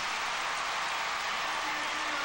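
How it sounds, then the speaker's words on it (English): Steady, dense wash of crowd applause filling an arena after a routine at a gymnastics floor final, the 1992 World Championships, sustained and even throughout with no voices over it. "A deafening roar of applause for perhaps one of the most emotional favorites on the floor."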